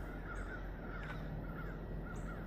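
Crows cawing outdoors at a shooting range, a few harsh repeated caws spaced through the clip over a faint steady background, moderately distant and with no talking.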